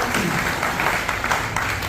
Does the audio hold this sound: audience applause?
yes